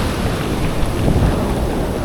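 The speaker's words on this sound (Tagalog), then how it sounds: "Malakas na rin yung dagat kasi high tide na mga kaibigan." Ocean surf at high tide beside a seaside campsite rolls in as a steady, loud wash of broadband noise, with wind buffeting the microphone and no voices.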